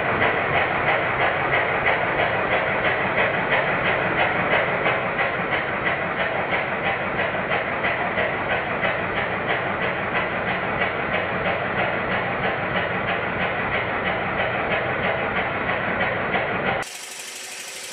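A Stuart triple expansion model steam engine is running in, a steady, rapid mechanical chuffing and clatter with an even rhythm that continues unbroken, close and fairly loud, before a brief change at the end.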